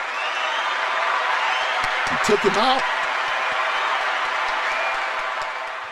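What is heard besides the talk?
audience applause and cheering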